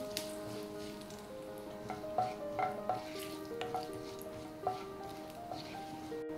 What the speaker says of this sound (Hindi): जीरे को हम थोड़ा सा भून लेंगे।